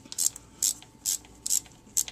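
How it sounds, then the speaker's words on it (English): Hand ratchet snugging the oil filter mount bolts on a 1974 Ford F250 with a 390 engine: five short, crisp clicking bursts in a steady rhythm, close and distinct against a quiet background. "get these bolts snug first before I tighten them down"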